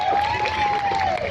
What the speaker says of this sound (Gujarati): બંને માટે જોરદાર તાળીઓ થઈ જાય.